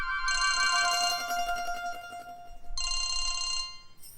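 A phone ringtone sounds close by in two bright, trilling bursts separated by a short pause.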